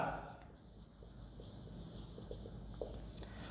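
Marker or chalk writing notes on a board in a classroom, faint scratchy strokes under steady room noise and a low hum, quiet and continuous.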